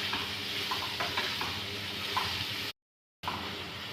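Chopped onions being stirred and roasted in ghee in a pan, a steady soft sizzle with light scraping of the spoon, broken by a brief silent gap before the frying noise resumes.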